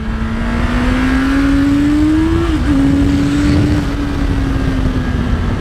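A Honda CBR650R E-Clutch motorcycle engine drones loud and close while riding, its steady tone rising slowly, dipping briefly at a shift, then holding under heavy wind rush.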